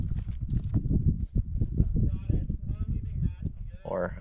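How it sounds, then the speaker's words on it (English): A mountain goat's hooves clatter down rocky ground in alpine backcountry, giving a run of close, irregular tapping clicks, with people talking over them and wind noise. "Goat number 2, clambering down."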